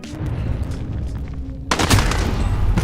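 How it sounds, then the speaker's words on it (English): In a Warzone match, steady gunfire rattles against a riot shield before a sudden loud C4 blast bursts in close by, followed by a roaring, crackling aftermath. "While my riot shield could stop his bullets, it unfortunately could not stop his C4."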